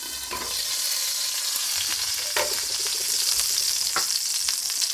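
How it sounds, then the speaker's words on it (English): Bacon sizzles and crackles steadily in a pan, a close, continuous frying hiss with scattered sharper pops throughout. "that bacon's cooking"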